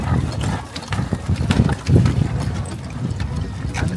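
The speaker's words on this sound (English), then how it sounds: "you can only get there by horse and carriage or camel" Horse hooves clip-clop steadily on the ground as a horse and carriage moves near the Pyramids of Giza in Cairo, a loud, close rhythmic beat under general outdoor bustle.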